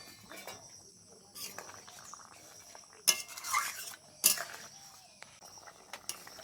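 Fried prawns being stirred into a taro curry in a pan, a metal spoon scraping and clinking against the pan in a few sharp, close bursts over a soft background hum.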